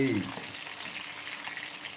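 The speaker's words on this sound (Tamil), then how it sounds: "நெத்திலி ஃப்ரை" Small anchovies sizzle and crackle in hot frying oil, a steady bright hiss close by with a voice briefly heard at the start.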